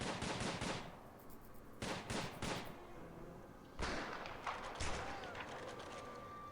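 Prison guards firing guns in the Prison Architect video game: rapid bursts of automatic gunfire in three separated volleys, sharp and clipped, with a shouting voice in between.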